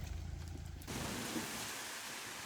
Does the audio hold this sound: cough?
no